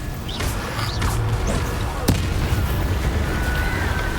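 A Confringo blasting spell in Hogwarts Legacy sets off a string of crackling, popping bursts, with one sharp blast near the middle, over a constant rumbling bed of battle noise.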